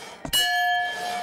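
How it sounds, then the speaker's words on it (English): Hammer striking a strength-test bell game at a fair, a single close knock followed by a bright ringing bell tone that sustains and slowly fades. "You hit this button with this hammer. If the bell rings,"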